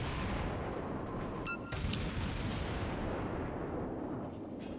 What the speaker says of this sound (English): the shells fired from the battleship are missing pretty heavily.